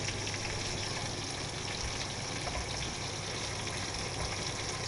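Hot water pours steadily into a paella pan of rice cooking over low heat, a continuous wash of liquid rushing and splashing at moderate level throughout, with no talk.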